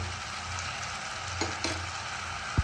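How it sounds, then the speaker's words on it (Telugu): A quiet, steady sizzle of ground masala frying in a pan for egg curry, broken by a few soft clacks of a spoon stirring. "మసాలా మొత్తం కొంచెం కొంచెమే వేసుకొని ఫ్రై చేసుకుందాం"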